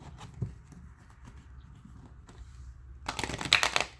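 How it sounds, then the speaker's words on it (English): A deck of oracle cards riffles and shuffles close by, a soft patter at first that swells into a brisk, crisp burst of card flicks near the end. "let's shuffle them real quick so you can see how they shuffle"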